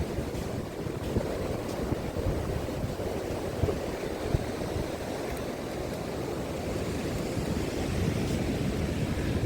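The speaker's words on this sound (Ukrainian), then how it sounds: "Боже, оце хвилі." Sea waves roll onto the wet sandy shore at Odesa on a windy January day, a steady broad roar of surf and gusting wind that fills the whole stretch without pause.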